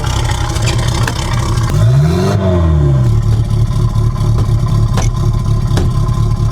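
A 1969 MGB fitted with a junkyard turbo is revved once, the engine climbing sharply and then falling back to a steady idle that runs on alone, close and loud, with light clatter.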